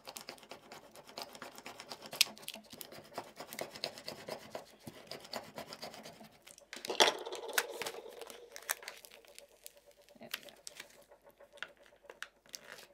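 A thin release sheet is peeled and bent away, giving faint, drawn-out rubbing and crinkling with scattered soft ticks, close and quiet, swelling into one louder crinkle partway through, with no talking.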